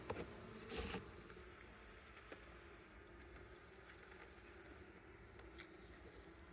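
Honey bees drone continuously at low volume at their hive with a steady high whine, a few faint knocks and rustles scattered through.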